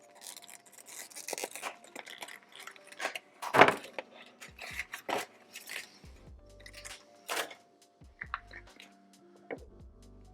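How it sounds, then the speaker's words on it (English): Brownells nitrided AR-15 bolt carrier group being unpacked: close crinkling and rustling of packaging with scattered light clicks and knocks, one sharper rattle partway through, no talking. "let's go ahead and take it out of the packaging"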